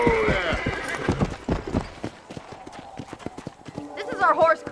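Horses at a ranch corral in Red Dead Redemption: clip-clopping hooves beat in close, irregular steps, a horse whinnies near the end, and someone speaks over the hoofbeats.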